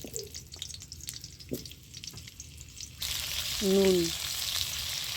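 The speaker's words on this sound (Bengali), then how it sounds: "কড়ার মতো আমি একটু সাদা তেল দিয়ে আলুগুলো প্রথমে লাল করে ভেজে নিচ্ছি।" Potatoes frying in white oil in a wok, a soft broadband sizzle that swells louder midway with a brief tonal clink or scrape, alongside a short spoken word.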